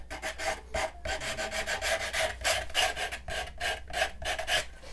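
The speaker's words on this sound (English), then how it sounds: "take your sandpaper, if you didn't want to do a big distress look" Sandpaper rubbed back and forth over wood to distress its finish, a steady run of close, even rasping strokes with no talking.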